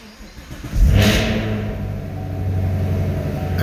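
A 2023 Chevy Camaro engine starts and settles into a steady idle, with a brief rising rev at the start easing into a continuous low rumble, close and loud, with no talking.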